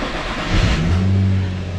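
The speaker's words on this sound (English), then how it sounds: "y'all should be able to hear the car." An Infiniti G35 engine runs during an injector balance test, a close, loud, steady idle with a slight rise in revs partway through and no talking.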